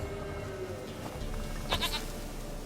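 A goat in The Witcher 3 gives a short, nasal bleat near the end, set against a soft ambient hum of the game world. The bleat is a single brief cry with no voices around it.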